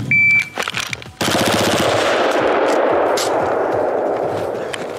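Rapid automatic gunfire from a Bushmaster ACR rifle fired outdoors in the cold, a brief burst then a sustained loud string of shots with heavy recoil, echoing and filling the whole stretch.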